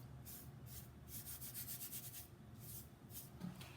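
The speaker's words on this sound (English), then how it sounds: "we're going to take a clean, dry brush and we're going to brush away the excess" A clean dry brush sweeps excess copper leaf off fabric in soft, faint, repeated brushing strokes close by, with no talking.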